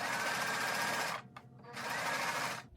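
A sewing machine stitching a pinwheel lap quilt rapidly in two bursts with a short pause between, loud and close.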